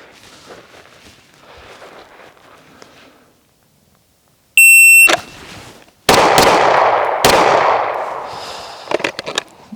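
A Smith & Wesson M&P Metal pistol fires a quick bill drill, with loud, close shots in fast succession, preceded by a shot-timer beep and quiet shuffling, then ringing echoes.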